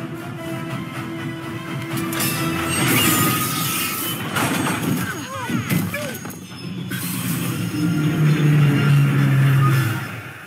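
A video-game train brakes hard, with grinding rumble, metallic squeals and a crashing clatter, loud under excited voices talking.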